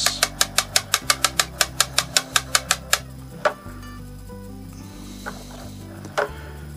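A repaired Cannon downrigger running, with about fifteen rapid, evenly spaced mechanical clicks over three seconds, then a low motor hum with a couple of isolated clacks, heard close and with no talking.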